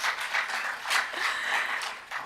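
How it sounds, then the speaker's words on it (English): A conference audience applauding steadily, a dense wash of many hands clapping at once, fairly close and sustained without letup. "Please, a round of applause."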